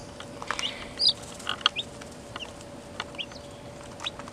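Newly arrived meat chicks cheep in short, high-pitched peeps scattered irregularly, several birds calling close by over a low steady background hum.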